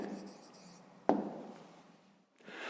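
Pen scratching on paper as an answer is written by hand, soft strokes at the start, a sharp tap, then fading, with a voice briefly present; quiet and close.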